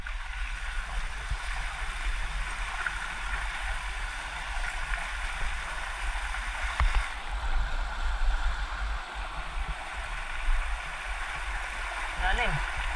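Floodwater in the streets of Calasiao, Pangasinan, sloshing and churning around a vehicle driving through water about half a wheel deep, a continuous rushing wash under someone talking.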